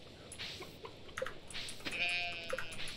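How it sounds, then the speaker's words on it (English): A baby calf in the Stardew Valley farming game gives a few short, soft bleating cries, faint and close, spread across a few seconds. "Did I just get a baby cow?"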